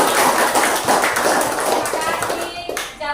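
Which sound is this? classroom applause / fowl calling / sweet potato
classroom applause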